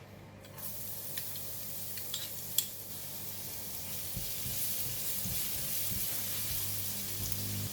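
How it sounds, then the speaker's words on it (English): Garlic fries in about half a tablespoon of oil in a pan, making a hissing, spray-like sizzle that stays close and steady, with a few light taps. "I have left about half of a tablespoon of oil in the pan. So I'm going to put in the garlic."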